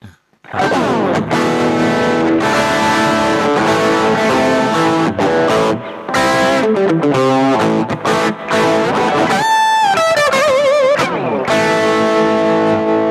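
Distorted electric guitar through an ARTEC G200R 200-watt amplifier, crunchy chords and riffs with brief pauses and squealing high notes, loud and continuous.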